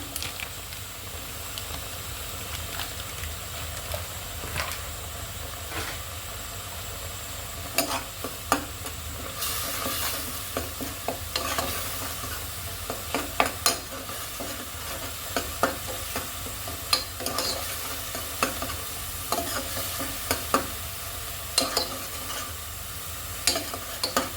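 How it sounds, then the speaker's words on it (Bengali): Fish masala fries in a pan and gets stirred repeatedly, a soft continuous sizzle punctuated by sharp scraping and tapping spatula strokes that grow busier toward the end. "একটু ভালো করে ভেজে নিব"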